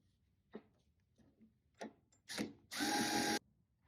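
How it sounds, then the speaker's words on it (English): A power drill bores a second hole through a car fender during patch repair work, starting with short taps and ticks, then building to one loud sustained whir about a second long, close up. "Drill a second hole."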